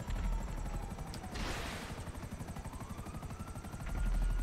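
A helicopter engine strains and labours in Grand Theft Auto V, a rapid rhythmic thudding rotor with a whining tone, bursting into a rushing crash of noise partway through before the pulsing resumes.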